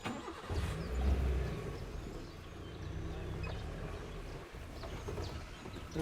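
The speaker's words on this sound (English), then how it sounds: "I'm just going to turn the vehicle." Safari vehicle engine idling low as the driver turns the vehicle on loose sand in Bandhavgarh National Park, a soft steady rumble close by with faint birds in the background.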